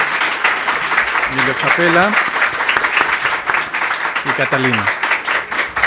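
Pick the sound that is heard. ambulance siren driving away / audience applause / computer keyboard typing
audience applause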